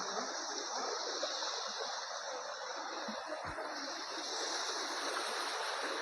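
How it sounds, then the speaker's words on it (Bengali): Roadside waterfall in North Sikkim pouring down from above, a steady broadband rush of falling water filling the scene without break, with a couple of faint low knocks partway through and no talking. "দেখো কি সুন্দর ওয়াটারফলস, উপর থেকে এরকম নামছে"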